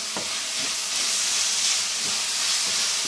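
Tomatoes and green chillies frying in a pan give off a steady, loud broadband sizzle and hiss, close up, with a few soft stirring scrapes and no voices.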